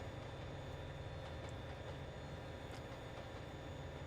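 An AI-driven train passing in Trainz Simulator 2, a steady dense rumble and drone with faint metallic squeals, constant and fairly distant-sounding, no voices.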